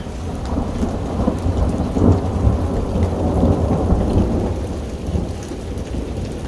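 A spring thunderstorm with rain and hail in Italy: a steady, dense roar of rainfall with deep rolling thunder rumbling throughout, swelling around the middle, close and loud with no voices.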